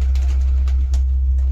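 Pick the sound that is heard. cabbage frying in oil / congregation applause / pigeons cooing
pigeons cooing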